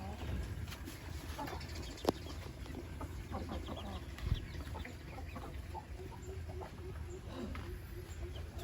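Young backyard chickens nearing a year old cluck softly and intermittently in a quiet outdoor setting, with a couple of brief sharper sounds.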